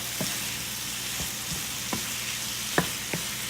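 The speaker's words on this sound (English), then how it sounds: "now we add the meat that we cooked earlier and mix it very well" Cooked meat stirred into tomatoes in a frying pan, with a soft continuous sizzle and a few scattered scrapes and light knocks of the utensil.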